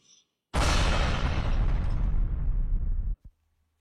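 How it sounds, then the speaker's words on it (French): A loud, sudden explosion sound effect bursts in and roars with a dense, rumbling wash for about two and a half seconds, then cuts off abruptly, followed by a faint pop. "Explosions."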